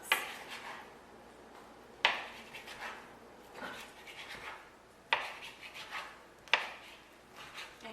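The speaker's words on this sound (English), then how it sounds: "And I'm slicing them that way, and then I'm going to like turn the whole thing and cut them into" A knife chops ham into chunks on a cutting board for a ham, cheese and kale quiche: five sharp, close strikes spaced about one to two seconds apart, each followed by a short scraping rub, with no talking.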